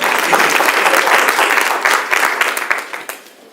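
A crowd claps loudly and steadily, the applause thinning and fading out toward the end.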